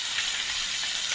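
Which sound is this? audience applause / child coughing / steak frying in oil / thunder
steak frying in oil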